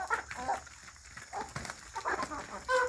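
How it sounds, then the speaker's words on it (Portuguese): Chickens cluck and squawk in agitated bursts close by on a farm, as birds squaring up to fight, with several overlapping calls and a louder squawk at the end. "As galinhas querendo brigar."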